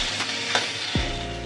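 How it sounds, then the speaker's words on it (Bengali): Catfish (boal) frying and being stirred in a cooked spice masala for a Bengali fish curry, a steady close sizzle with a few scraping stir sounds. "মাছটাকে ভালো করে কষিয়ে নেব"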